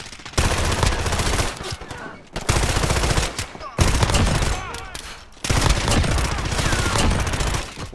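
Rapid automatic pistol fire from a Sykov in Call of Duty: Modern Warfare, loud sustained bursts broken by brief pauses, with gameplay sounds mixed in.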